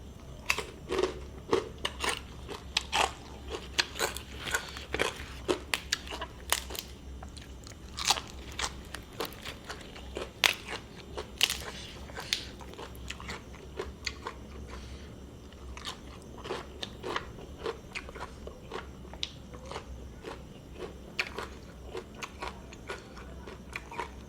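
Crispy fried pork being bitten and chewed close up, giving a steady run of sharp, loud crunches with no talking, as part of an Isan-style meal of spicy papaya salad with rice noodles and blanched shrimp.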